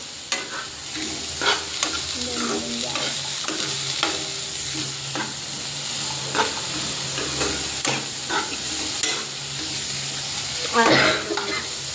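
Onions frying in hot oil for pasta are stirred steadily, with a continuous sizzle and repeated scraping clinks of a utensil against the pan, up close with no voices.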